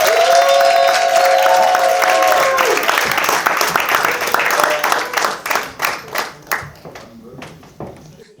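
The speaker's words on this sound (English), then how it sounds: "Give a massive round of applause as we introduce Dr. Cheryl Monroe to the stage" Applause as Dr. Cheryl Monroe is brought on stage at a confidence summit, broad crowd clapping under stage music and an announcer's voice, then fading into a few separate rhythmic claps at the close.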